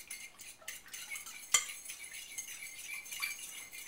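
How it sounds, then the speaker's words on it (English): Fork stirring eggs in a tilted mixing bowl, light scraping and clinking against the bowl with one sharper tap partway through, fairly quiet and close with no talking. "Step 3, stir with the fork"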